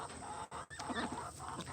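Homestead chickens cluck in short, scattered bursts at moderate distance, broken by brief pauses, with no talk over them.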